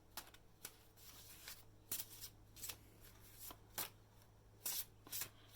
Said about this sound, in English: I want to make sure that I shuffle these cards really good